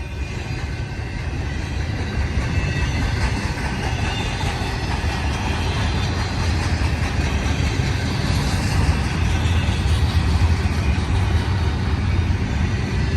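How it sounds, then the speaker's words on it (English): A mixed freight train of auto racks and stack cars passes close by, a loud, continuous broadband roar of wheels and cars rolling steadily for many seconds, with no voices. "Kind of a combo of a auto rack and a stack and a Z train."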